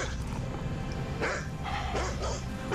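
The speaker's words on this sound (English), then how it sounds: "Oh, dude, I thought we had zombie dogs up here." Dogs bark and yip in a scene from a zombie TV drama, with rapid, excited calls mixed with whimpers, close and loud over a dense background of music and effects.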